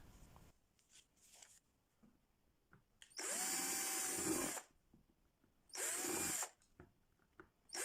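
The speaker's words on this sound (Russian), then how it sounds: "Соответственно, я ставлю сверло 7." A power drill fitted with a 7 mm bit bores holes while making a rattan planter, heard as two close, loud whining bursts of about a second and a half each, separated by quiet.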